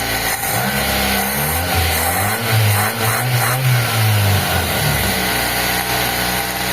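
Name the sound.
Nissan Sentra carburetor engine running and revving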